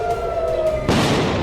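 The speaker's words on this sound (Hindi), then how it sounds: "तेल अवीव में गूंजे सायरन" A steady wailing air raid siren tone in Tel Aviv during an Iranian missile attack, abruptly cut off by a loud, broad rushing burst of noise.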